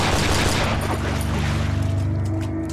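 Gunfire in the horror video game Cry of Fear, a dense burst of rapid shots with booming low thuds, loud and close, easing into a ringing tail.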